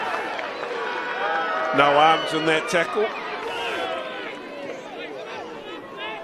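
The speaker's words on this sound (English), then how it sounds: "Listen to the crowd." Crowd at a men's senior reserves rugby final between Edgecumbe and Waimana in Eastern Bay of Plenty, a steady hubbub that swells briefly into louder cheers, with a commentator talking over it throughout.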